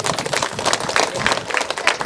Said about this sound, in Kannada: ಜೋರಾಗಿ ಚಪ್ಪಾಳೆ ಮಾಸ್ಟರ್ಗೆ